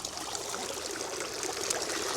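A garden water fountain with leaves floating in it gives off a continuous, fairly loud trickling splash, steady throughout with no other sounds.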